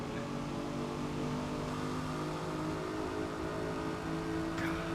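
A Nissan G35 race car engine revs steadily in the Forza Motorsport video game, a continuous, moderately loud drone that holds steady throughout with no talk.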